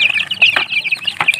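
Several free-range native chickens cluck and chirp close by in quick, overlapping bursts, a busy flock chattering without pause.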